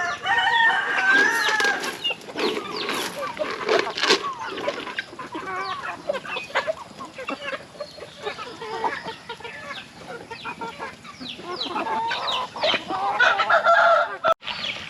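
Chickens cluck continuously and close by on a farm, several birds overlapping in busy chatter, with a crow rising near the end.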